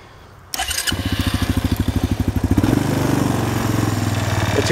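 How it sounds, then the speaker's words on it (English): A Suzuki Quad Sport 230 ATV engine cranks over in rapid rhythmic pulses for about two seconds, then catches and settles into a loud, steady idle close by. "I'm gonna start it up here."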